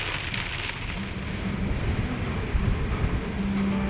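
Steady rain on Cape Cod falls in a continuous, even hiss across surfaces, with a faint low rumble beneath and no voices.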